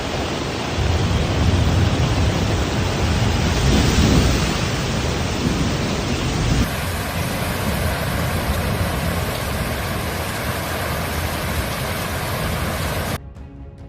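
Heavy rain pours steadily during a thunderstorm in Okinawa, a dense, loud wash of noise with deep thunder swelling around the middle before the downpour carries on evenly and cuts off near the end.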